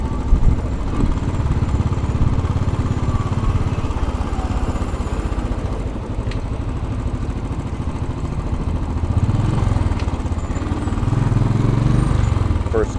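A Royal Enfield Bullet 500 rides through congested Fifth Avenue traffic in New York City, its thumping single-cylinder engine loud and close throughout, swelling slightly as it moves up through the gears.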